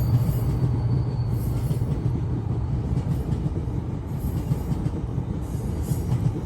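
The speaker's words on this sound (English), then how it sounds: "A train will go by, live, but not really" A train rumbles steadily past, a loud continuous low roll of wheels on rails with faint rhythmic clatter and occasional high squeals, no voices over it.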